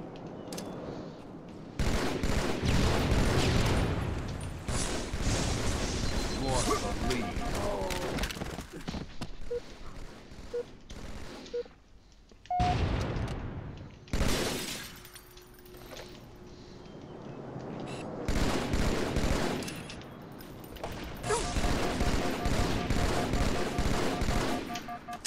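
Sustained automatic gunfire and explosions in a Halo 2 multiplayer match, dense bursts rattling almost continuously with short lulls, loud and close, some game voice faintly underneath.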